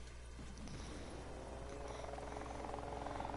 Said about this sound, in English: I hear a chopper somewhere